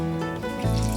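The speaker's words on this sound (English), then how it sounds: "we can always just add a little more cold water to it." Cold water runs from a tap into a container holding a turkey in bourbon brine, a close, steady gush with a splashy surge as the flow strengthens near the end, no voices.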